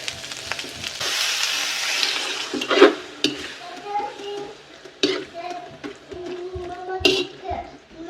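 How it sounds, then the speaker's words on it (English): Water poured into a pan of soy chunks with a cornstarch and soy sauce mixture, followed by stirring, clinks of a utensil against the pan and soft sizzling, with a voice talking briefly nearby. "I'm going to add a little bit of water to it, like around half cup of water to it."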